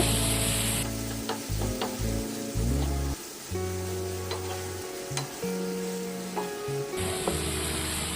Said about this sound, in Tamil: இறால் சேர்த்து நல்லா கலந்து விட்டுருவோம் தக்காளி பேஸ்ட் கூட